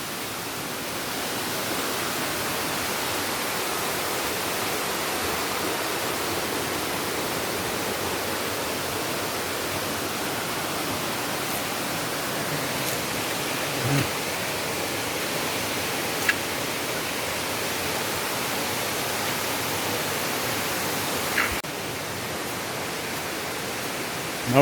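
Steady broadband rush of a river flowing through jungle in Portland, Jamaica, continuous and fairly close, with a few faint knocks and no talking.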